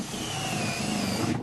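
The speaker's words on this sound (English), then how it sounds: "I'm simply going to take a 3/8 inch drill" Whining buzz of a 3/8 inch power drill boring through a plastic container and aeration bench, one steady burst of motor noise with a faint rising tone, close by, cutting off abruptly at the end.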